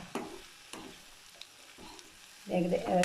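Ivy gourd mezhukkupuratti, a Kerala stir-fry, sizzles in oil in a pan. A few short scraping stirs break the quiet hiss, then a brief voice rises near the end.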